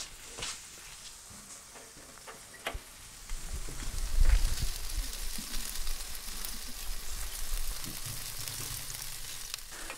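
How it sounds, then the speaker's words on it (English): BBQ chicken wings and legs sizzle on a grill as the lid closes, giving a steady close frying hiss with a few clunks and a louder surge midway. "I'm gonna close up the grill and let them cook a little bit longer."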